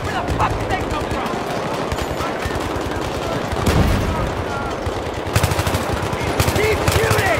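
Sustained automatic gunfire in Battlefield 3 during an intense modern combat firefight, rapid rattling bursts running continuously throughout with louder crackling shots near the end, fairly close and loud.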